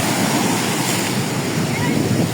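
Strong sea waves surge onto the Pacific shore of El Salvador during a tsunami-like swell, forming a dense, loud, unbroken roar of crashing surf that fills the whole moment.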